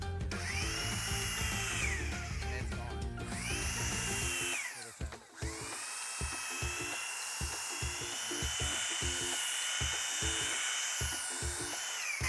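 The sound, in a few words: sander sanding cedar railing wood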